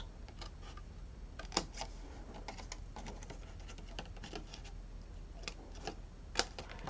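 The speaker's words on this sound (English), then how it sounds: "you're going to snip it straight across" Scissors snip straight across a sheet of card stock during a lattice card craft project, giving a few quiet, crisp cuts, with two sharper snips standing out against a faint steady background.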